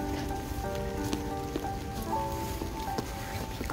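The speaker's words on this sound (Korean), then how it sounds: "비가 오고 있어요." Rain falling outdoors, a continuous close patter and hiss of drops hitting surfaces at a steady level, with faint scattered tones in the background.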